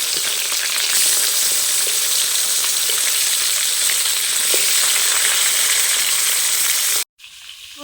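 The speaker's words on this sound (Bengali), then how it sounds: "এদিকে মাছগুলো ভাজা হচ্ছে" Fish turning in a pan of hot oil gives a loud, steady sizzle and crackle that runs unbroken for about seven seconds, then cuts off abruptly into near silence.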